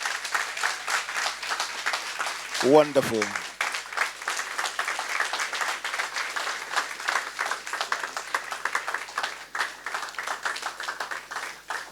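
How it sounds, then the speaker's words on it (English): Audience applause in a hall honoring Kwaku Sakyi-Addo, dense steady clapping throughout, with a brief spoken word early on. "Let the applause reflect our appreciation."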